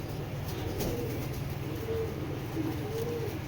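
Pigeons in a loft of young birds from a breeding line coo softly and repeatedly, a few low murmuring calls over steady background noise.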